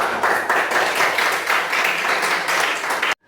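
A classroom audience claps for about three seconds, a dense, steady burst of applause that stops abruptly.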